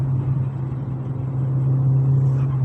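A car with a 1.8T engine fitted with a K04-064 turbo holds full throttle, giving a steady, loud, droning engine rumble from inside the cabin with no breaks.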